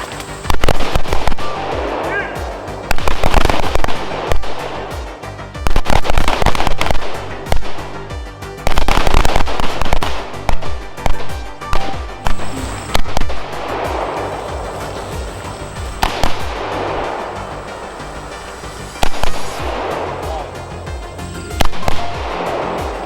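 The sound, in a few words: carbine rifle gunshots on a tactical course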